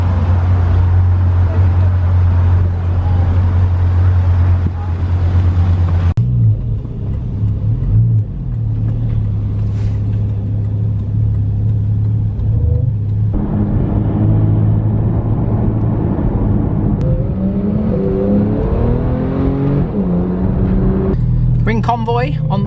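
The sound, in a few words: cars driving in convoy, Porsche Boxster Spyder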